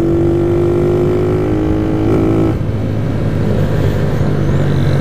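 A Honda CG Fan motorcycle rides along with a loud, steady engine drone, its pitch dropping briefly midway as a gear changes before the engine note settles again.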